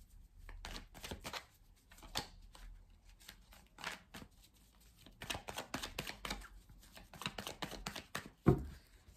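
Belline oracle cards are shuffled by hand in a long run of soft, quick riffling and slapping taps, faint and close, ending with a sharper knock.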